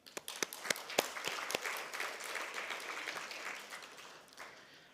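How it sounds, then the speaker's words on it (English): An audience at a panel event on AI security applauds prize participants: a few sharp, separate claps at first quickly swell into a steady wash of clapping from many hands, then fade slightly toward the end. "let's give the prize and the participants a round of applause"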